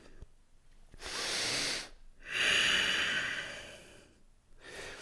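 Slow, deep breathing during a yoga flow, with long airy inhales and exhales in three drawn-out waves separated by short pauses, close and fairly loud, with no speech.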